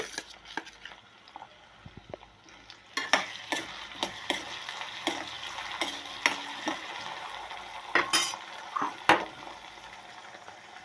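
Beetroot, potato and carrot stirred and frying in a pan for sabudana khichdi, with soft continuous sizzling and repeated sharp scraping clicks of a spoon, close and alone.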